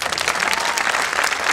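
A festival audience at 'Isola in Festa' in Sulcis Iglesiente claps loudly and continuously. Dense, close applause fills the whole short moment with only a faint crowd murmur.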